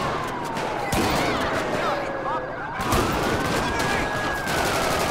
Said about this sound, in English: We're in a heavy gunfire.